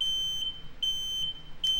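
A high electronic beep repeats in a mascot horror video game, three short, steady tones spaced under a second apart over a quiet, low hum, with no voices.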